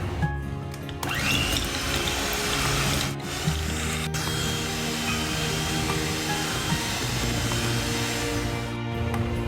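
An electric mixer beats softened, room-temperature butter with icing sugar for ice cream cookies, a steady close-up motor whir with a brief change in pitch near the start and short dips partway through; no voices.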